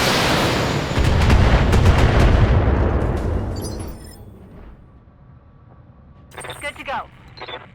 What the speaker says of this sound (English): But you can do an LRM shot.